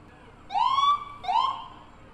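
Two rising wails of an emergency siren from parade fire trucks and an ambulance, loud and close, each sweep climbing then holding before fading, with no voices.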